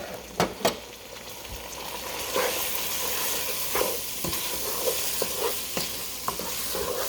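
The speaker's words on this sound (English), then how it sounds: "Give it a quick stir." Uncooked, unwashed rice being stirred into a hot pot for rice and beans, a soft sizzle with scraping spoon strokes and a few sharper clinks against the pot.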